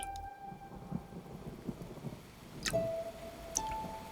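A distant thunder rumble rolls beneath a faint, steady patter of rain, quiet and low throughout.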